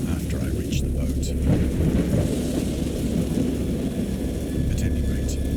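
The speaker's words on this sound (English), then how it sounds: "I heard pearls of thunder and other tones which nature utters only in her wildest moods" A heavy thunderstorm with steady dense rain and a deep rolling rumble of thunder that swells and fades, loud and close throughout.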